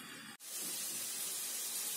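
Ginger and hot chili pepper hit a hot pan for Asian chicken noodles, a sudden steady sizzling hiss that starts abruptly and holds loud and close.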